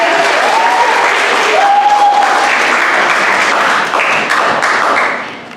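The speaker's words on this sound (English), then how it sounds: "round of applause for Kent Place" A crowd in a school hall applauds for a student team before a scrimmage, loud sustained clapping with some cheering tones, tapering off at the end.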